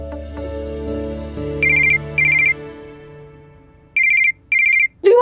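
A telephone ringing over soft background music, two pairs of electronic trilling rings with a short gap between them, loud and close, no talking.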